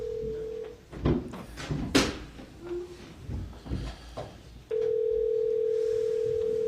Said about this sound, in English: You know you can decode DTMF tones